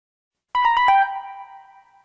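A telephone rings once with a short burst of four quick electronic pulses, then the tone lingers and fades, clear and close with no talk over it.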